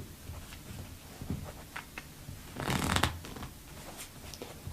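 Close papery riffling of cards, a couple of soft flicks building to a dense burst of rapid ruffling near the end, then quieter taps.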